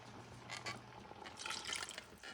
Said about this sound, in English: I don't want it that thick, so I'm going to put a little bit of water.